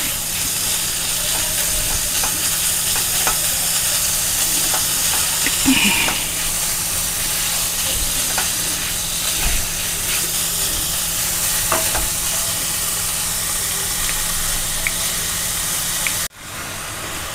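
Chicken pieces frying in a pan for an egg chicken bhujia, a loud continuous close sizzle with occasional stirring knocks, cutting off abruptly near the end, with no voices.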